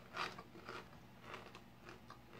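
Faint, close crunching bites of Buck Wild Ranchero Cheddar tortilla chips, a few irregular crisp crackles as the brittle chips are chewed, with no talking.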